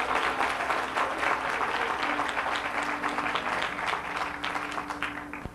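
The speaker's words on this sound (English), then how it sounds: "Give him a great big hand clap today." A church congregation claps for its presiding bishop, dense and sustained applause filling the sanctuary at moderate loudness, tapering slightly toward the end with faint crowd murmur.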